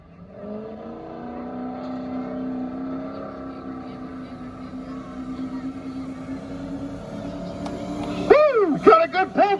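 A pulling truck's engine roars at a fair's truck and tractor pull, building from a steady drone to loud revving surges near the end as it grabs gears, with an announcer talking over it.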